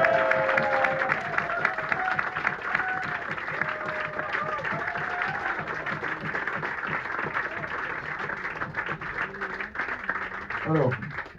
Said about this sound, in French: quand vous l'applaudissez comme ça